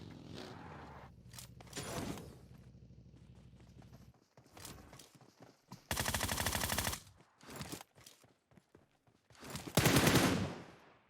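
Bursts of automatic gunfire in the PUBG Mobile game on the Erangel map, several loud rapid volleys with gaps between them, mixed with footsteps and other game effects.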